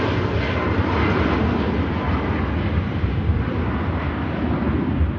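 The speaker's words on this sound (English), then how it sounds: "I think we can hear spooling up in the background, getting those engines started" Jet engines of Norse-operated aircraft spooling up at Manchester Airport, a broad, steady distant roar that stays even and loud throughout, no speech.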